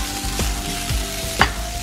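Potatoes frying in butter with rosemary, a low steady sizzle with a few soft stirring clatters and a sharper scrape near the end, close and unaccompanied by speech.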